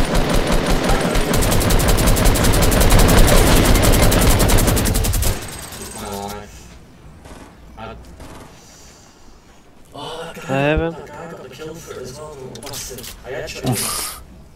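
Rapid sustained LMG fire in Fortnite Battle Royale, a dense loud burst of rattling shots for about five seconds that then cuts off, leaving a player talking over quieter game sounds.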